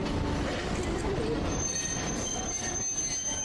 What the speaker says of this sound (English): they're changing tracks.